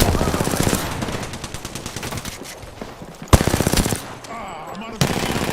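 Rapid machine-gun bursts in a shooter video game rattle loud and close, broken by brief pauses and a sharp louder shot, with a voice faintly underneath.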